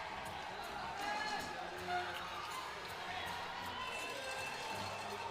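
Sellout crowd at a youth Baseball5 semifinal between Cuba and Mexico at Parque La Loma, a steady distant roar of cheering and chatter with a brief louder swell near the middle.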